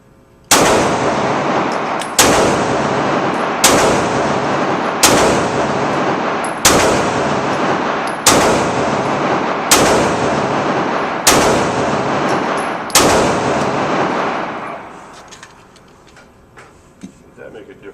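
Nine sharp, loud gunshots from an SR9 pistol firing Remington 115-grain hollow points at an indoor range, evenly spaced about 1.6 seconds apart, each ringing into the next before a quieter tail.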